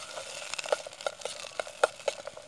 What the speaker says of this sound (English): A bit of a stir.